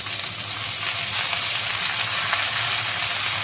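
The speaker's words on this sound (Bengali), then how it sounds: "এবার শাকগুলোকে ভেজে নেব ভালোভাবে" Leafy greens frying in a home-kitchen pan, a steady dense sizzle with faint stirring scrapes, close and continuous with no talking.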